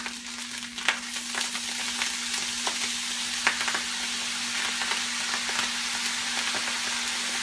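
Rice frying on a hibachi sizzles steadily as soy sauce is poured over it, a continuous hiss with a few scattered pops and a faint steady hum underneath, no talk.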